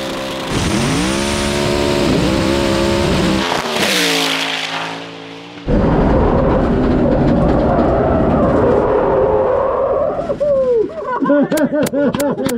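A 1,400-horsepower Hoonicorn Mustang drives on a test course, its engine roaring loud and close with pitch sweeps as it revs and shifts, dropping briefly before surging again, ending in rapid rising and falling tones.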